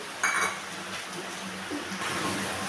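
Spoon scrapes and clinks against a pot as fried cardamom and whole cumin are stirred into a tomato-potato rui fish curry, with a faint simmer underneath.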